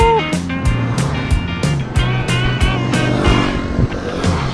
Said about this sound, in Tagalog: Ito naman ang mga scooter nila.